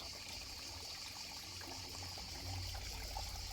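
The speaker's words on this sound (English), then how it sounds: "Literally just flowing water all the time." Faint continuous trickle of water flowing in an irrigation channel at an old mill near Ronda, a soft steady babble with little variation.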